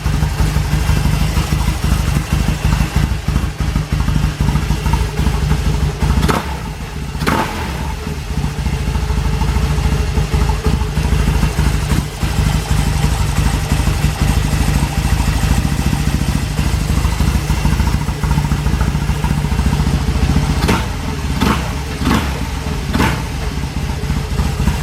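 Carbureted Kawasaki KZ750 motorcycle with Mikuni BS34 carburetors and pod filters idles up close, a steady loud mid-pitched engine rumble with occasional sharper clattering blips, no talking.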